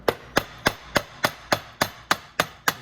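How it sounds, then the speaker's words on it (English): Steady, evenly spaced taps of a mallet on the crankshaft of a Venom 125cc engine, about ten sharp knocks at a regular rhythm, close and fairly loud with no talking. "tap on the coil or on the cam. Tap a bit."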